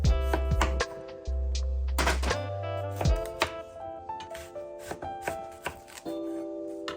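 Brussels sprouts, sweet potatoes and red onions are chopped on a cutting board, producing close, irregular knife thuds and taps over a light rustling background.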